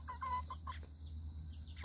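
Farmyard chickens give a short run of soft clucks close by for about a second, then go quiet over a low steady hum, with a sharp louder sound at the very end.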